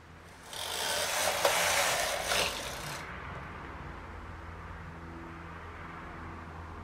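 A knitting machine knitting a dress gives a mechanical ratcheting, sliding rattle as the carriage passes for a couple of seconds, then quiet background hum.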